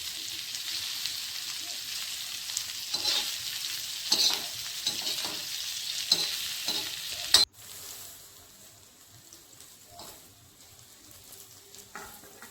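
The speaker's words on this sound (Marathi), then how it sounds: "आपली भेंडी फ्राय झाली" Okra pieces frying in oil in a pan, a steady crackling sizzle with occasional stirring scrapes, a sharp clack partway through, then a quieter, softer sizzle with no talk.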